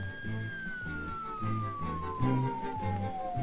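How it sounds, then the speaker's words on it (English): A police car siren wails past, its long tone sliding steadily downward as the car moves away, over a pulsing low rumble with no voices. "A police car speeding past with its lights flashing and its siren wailing."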